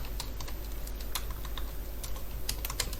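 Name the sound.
typing code on a computer keyboard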